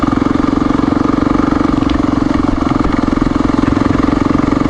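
A Honda XR400R dirt bike engine, freshly cleaned and rejetted, runs steadily up close with a loud, even, rapid putter.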